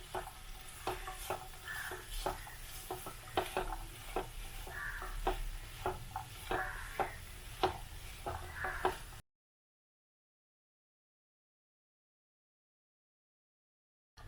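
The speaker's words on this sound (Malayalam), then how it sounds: "ഇത് നമുക്ക് നന്നായിട്ടൊന്ന് ഇളക്കി യോജിപ്പിക്കാം." A spatula stirs beetroot, boiled chickpeas and grated coconut for a Kerala-style thoran, rhythmic close scrapes and taps over a soft sizzle for about nine seconds before the sound cuts to silence.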